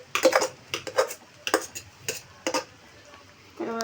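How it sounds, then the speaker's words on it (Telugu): A utensil scrapes and clatters in a pan as cooked rice is stirred into fried rice, giving irregular close knocks and scrapes with short pauses, and a brief sizzle near the end. "ఆ రైస్ ఇందులో కలిపేయాలి."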